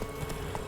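Roach the horse galloping in The Witcher 3, a quick run of hoof clip-clops over a steady background tone, faint and very short.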